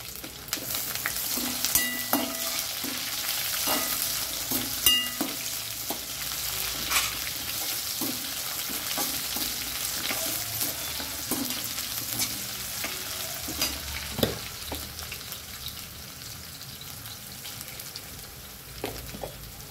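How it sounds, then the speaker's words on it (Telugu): Onions go into hot tempering oil for tomato rice and sizzle steadily for a long stretch. Frequent scraping and clinking from stirring cut through the sizzle, and there is no talking. "ఉల్లిపాయలు పోపులో వేసుకోవాలి."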